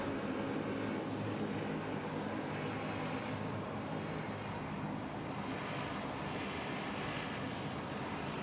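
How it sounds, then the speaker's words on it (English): A Hawker corporate jet at Sydney Airport produces a steady, distant roar that stays constant and fairly faint throughout, with no voices. "The Hawker. It's the SydSquad corporate jet."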